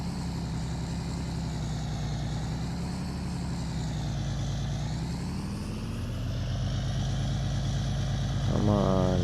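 Cummins truck engine in Farming Simulator 19 straining under a pull, a continuous deep droning rumble whose pitch sags and rises, growing slightly louder near the end.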